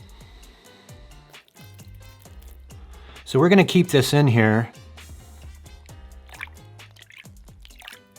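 Water poured into a waterproof-toed KUJO yard shoe, with a loud burst of splashing pouring for about a second in the middle, then faint drips, under a person talking throughout.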